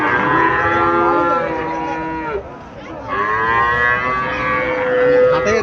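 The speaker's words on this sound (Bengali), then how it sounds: "গাভীটা হাঁটাই দেখাতেছে কাস্টমারকে" A Haryana cow at a cattle sale in Comilla moos loudly and nearby while being walked, giving two long, drawn-out calls separated by a brief pause.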